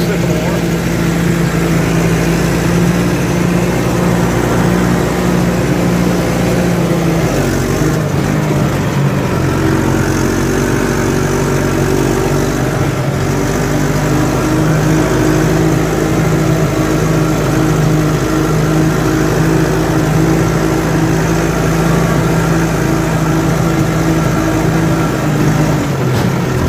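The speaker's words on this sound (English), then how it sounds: "Take the skid steer and clean out around this sycamore here so I can get it cut." A skid steer engine runs steadily while clearing ground around a sycamore tree, a loud, close mid-pitched drone that holds a constant tone throughout, dipping briefly a few times as the load changes.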